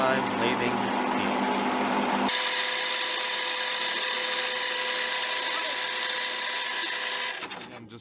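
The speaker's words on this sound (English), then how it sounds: "So here we go, Caleb's first time lathing steel." A metal lathe turns a piece of steel in a home workshop, letting out a loud, steady high-pitched whine. The tone shifts once as the cut begins, then holds level and cuts off near the end.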